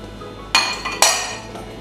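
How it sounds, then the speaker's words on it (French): Sugar and strawberry cubes go into a bowl, heard as two bright clinks and a softer knock against the dish over a low steady hum, close and alone without speech. "On verse les cubes de fraises, les 3 cuillères à soupe de sucre"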